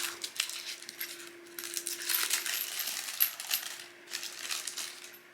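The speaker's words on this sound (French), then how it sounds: "cristal de roche, mais qui sont dans une fiole en verre. C'est pour ça que ça fait gling gling" Small glassy clinks and rattles tinkle continuously as rock crystal points shift inside a glass vial, close up, with no voices.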